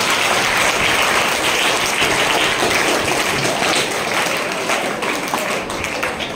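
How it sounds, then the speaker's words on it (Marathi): Steady crowd applause at a Marathi language day reading competition, a dense continuous clatter of many hands clapping that holds evenly throughout without pause. "त्याबद्दल जोरदार टाळ्या झाल्या पाहिजेत सगळ्यांना"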